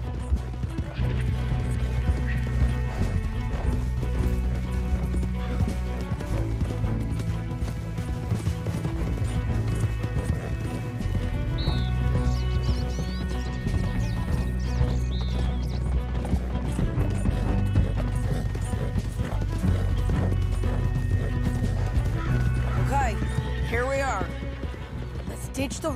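Horses gallop in Red Dead Redemption 2, hoofbeats clip-clopping steadily beneath a music score, with a neigh or two and occasional crashes, while characters talk over the ride.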